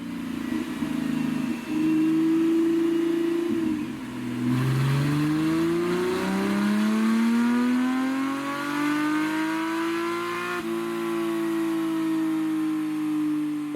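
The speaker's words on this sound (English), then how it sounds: "let's dyno the car with the ECG Performance Exhaust and see how much power we're going to make" A Porsche 987 Boxster or Cayman with an ECG Performance valved exhaust runs hard on a dyno, its engine dipping briefly and then climbing in one long, loud, steady rev sweep toward high rpm.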